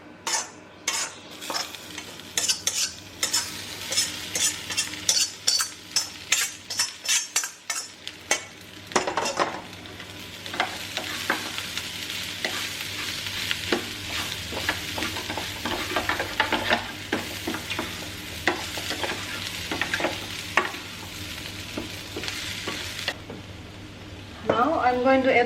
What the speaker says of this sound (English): Now add this fried sweet corn in this pan.